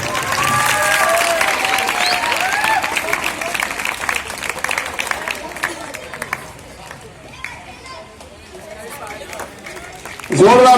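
A prize-distribution crowd claps loudly for a child at a school exam award ceremony, with broad applause and chatter running under amplified voices, fading in the middle before a sharp loud burst near the end.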